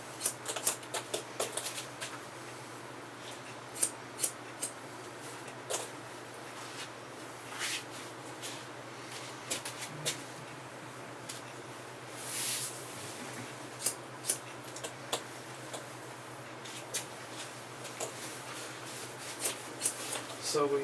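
Scissors snipping hair during a salon haircut in Alaska, a steady run of crisp, close snips and clicks over a low constant hum, with people talking in the background.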